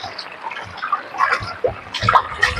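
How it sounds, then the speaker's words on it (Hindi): A flooded village river running full after heavy rain flows and splashes nearby, with irregular gurgling bursts of water at moderate loudness. "भारी नदी यार, फूल नदी आई गई"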